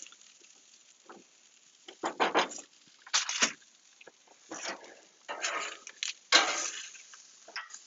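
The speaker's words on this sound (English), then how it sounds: "I give my corn puree a little stir" A spoon stirs thick corn puree in a pot, making several short wet scraping and sloshing bursts separated by quiet gaps, close and fairly soft with no talking.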